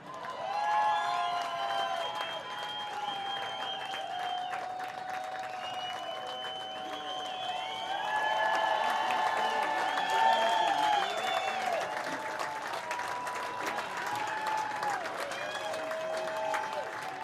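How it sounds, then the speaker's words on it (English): An audience at a youth stage show applauds after the cast's final bow, with scattered cheers. The clapping runs under voices and rises to a louder swell midway before easing off. "a nice round of applause for your youth, ladies and gentlemen"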